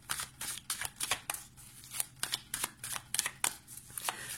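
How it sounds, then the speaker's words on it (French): Playing cards shuffled by hand before a single card is drawn during a card reading, giving a close, crisp series of riffling bursts in a quick, uneven rhythm with short pauses between them. "On va prendre une carte."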